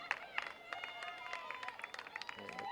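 A small crowd at a girls' varsity lacrosse game claps as play ends, scattered, fairly distant clapping with a few sharp nearby claps, mixed with faint background voices.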